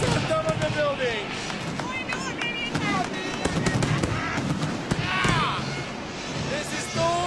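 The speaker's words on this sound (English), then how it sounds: "Titanium salutes on top of the building!" Titanium salute fireworks explode on top of a building on a Barcelona night in Spain, a rapid loud series of sharp cracking bangs echoing close by, with people shouting and cheering throughout.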